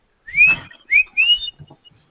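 A person imitates a whistle with three rising, bird-like whistled notes, the first longer and the next two quick in succession, close and clear with no talk.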